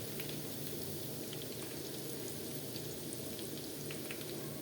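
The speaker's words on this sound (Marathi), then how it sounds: "चांगले व्यवस्थितरित्या भाजू द्यायचे, थोडे लाल लाल होऊ द्यायचे." Pea pakodas frying in oil in a pan, a faint, steady, even crackling sizzle with no voices.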